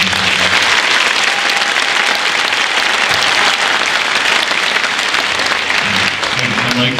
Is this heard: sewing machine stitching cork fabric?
no